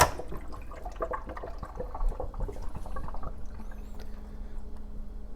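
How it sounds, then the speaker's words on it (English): Water pouring into the reservoir of a Keurig coffeemaker, a close, splashing gurgle that trickles and thins out over several seconds before fading to a faint hum. "So we heard all the water go in."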